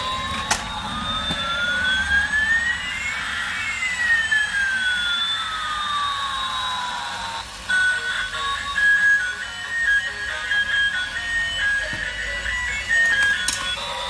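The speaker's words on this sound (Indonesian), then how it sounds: "Wow, ada helikopter." A synthesized whirring tone sweeps up and down over a constant engine-like drone, with a few sharp clicks: a helicopter in a Jurassic World Dominion dinosaur video game.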